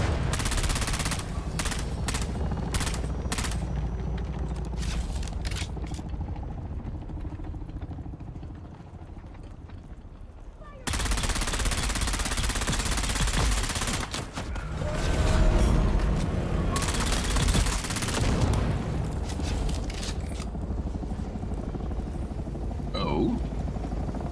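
Gunfire in the video game Dune: Awakening comes as bursts of rapid shots and single cracks amid mechanical game noise, with a person talking over part of it.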